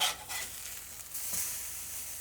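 A burger patty for a Hawaiian-style loco moco cheeseburger sizzles steadily on a hot griddle just after being flipped, a close, continuous crackling hiss with no talking.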